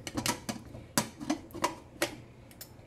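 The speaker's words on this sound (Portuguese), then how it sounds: "Dá uma chacoalhada aí na panela." A covered pan of cooked chicken is shaken to shred the meat, producing a quick series of sharp rattling knocks in an irregular rhythm, close and fairly quiet.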